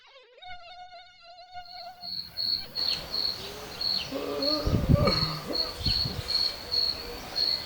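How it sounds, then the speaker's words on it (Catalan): A mosquito whines in a thin, steady high buzz, rising and falling as it flies close, at first alone and then over a louder bed of background noise and muffled low thumps. "El mosquit."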